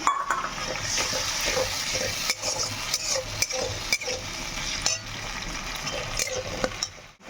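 Ginger-garlic paste and green chili frying in a pan, a soft sizzle under frequent scraping and clinking as a utensil stirs against the metal, close and moderately quiet, with no speech.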